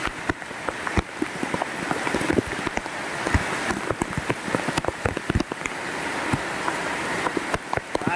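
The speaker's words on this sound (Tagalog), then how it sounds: "Ay, lalo pa nawalakas ng ulan." Heavy typhoon rain pours down steadily, with a dense hiss and many sharp drops pattering close by.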